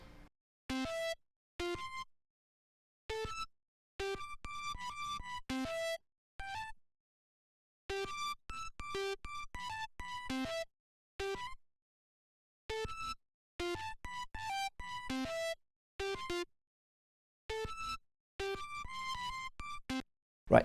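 A bright, plucky synth lead plays short choppy melodic bursts separated by silent gaps, crisp and upfront, repeating in phrases with no voices.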